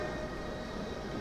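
A small model passenger train runs along its track, a close, steady rumbling whir without pauses.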